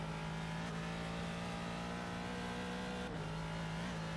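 A race car in the iRacing sim drones along at a steady engine pitch, the note dipping briefly with gear or throttle changes, constant and fairly quiet with no talk over it.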